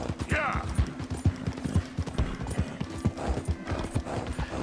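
A horse's hooves clop in a quick, regular rhythm across ground in Red Dead Redemption 2, with a brief whinny near the start and someone talking over the galloping.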